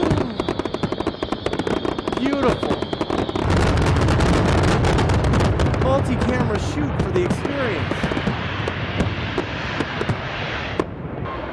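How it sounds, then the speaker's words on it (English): Fireworks bursting during a building implosion, heard as a replayed recording: loud continuous crackling and booming with layered bangs, while a person talks over it. "How about those fireworks,"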